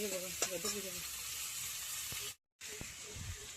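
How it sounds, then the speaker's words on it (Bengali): Ridge gourd fries and is stirred in a pan over a wood fire, giving a steady close sizzle with occasional scraping stirs; the sound breaks off briefly partway through, and faint voices and tonal background sounds are present. "কষে নিচ্ছে, ঝিঙে কষা।"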